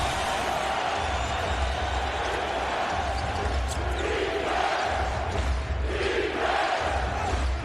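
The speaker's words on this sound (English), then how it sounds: "the crowd is into it now" A basketball arena crowd at a Trail Blazers versus Magic game roars in a dense, continuous wall of cheering and shouting that swells in waves, with faint bounces and squeaks of play underneath.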